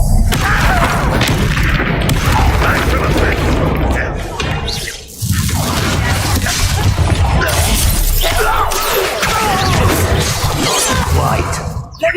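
Hogwarts Legacy spell combat: a Descendo slam brings a heavy booming crash and scattered shattering debris, loud and dense throughout with a short dip midway, layered over game music and effects.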